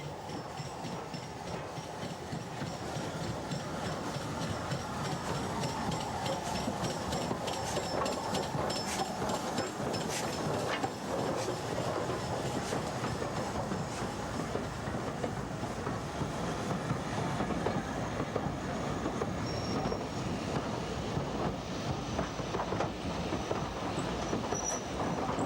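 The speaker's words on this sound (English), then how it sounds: "the loco pulls into Doncaster" A Stanier Pacific steam locomotive pulling into Doncaster station with a train, a long steady rumble of rolling stock and wheels on rails, with faint squeals and clanks over a constant background.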